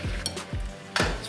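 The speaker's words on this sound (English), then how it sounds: "So we're just frying it in butter." Cinnamon bun dough fries in butter in a pan with a steady sizzle, broken by a few sharp clinks and scrapes of a utensil against the pan.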